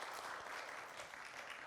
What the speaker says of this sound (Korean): 감사의 인사로 박수 한번